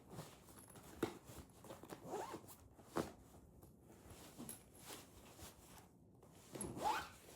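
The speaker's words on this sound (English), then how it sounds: "Let's zip this up." A carry-on bag is zipped shut: a quiet, close zipper rasps in several short strokes, separated by pauses and soft handling noises.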